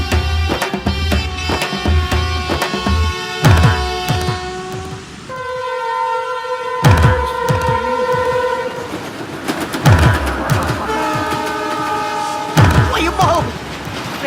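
A train rolls past close by with loud, rhythmic clickety-clack from the wheels and a sustained horn blast in the middle, the rumble continuing steadily to the end.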